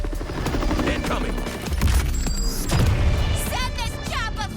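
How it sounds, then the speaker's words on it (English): A helicopter's thumping rotor roar dominates amid game combat noise, with heavy impacts and a voice briefly heard over the din. "Send this chopper flying!"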